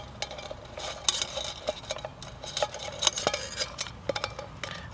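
Metal parts of a bushcraft pot hanger clink and tick as it is assembled by hand, with a series of light, sharp metallic taps and scrapes spread irregularly across a few seconds, close and fairly quiet with no talking.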